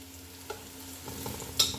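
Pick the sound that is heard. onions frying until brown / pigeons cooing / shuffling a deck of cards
onions frying until brown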